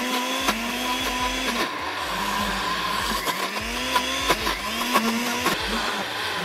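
A Bosch blender runs loud and steady, its motor whine rising and falling as it churns food into a paste. Repeated short knocks and thumps sound from the jar throughout.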